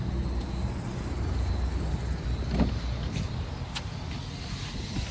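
A car's engine turning over and running after a new starter is fitted, a steady low rumble throughout with a few brief clicks and knocks, close by and without talk.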